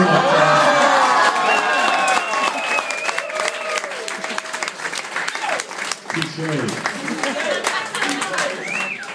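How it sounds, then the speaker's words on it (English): Wedding guests applaud and cheer loudly at a reception toast, the clapping fading into crowd chatter and laughter with voices talking over it. "I just wanted to get a round of applause"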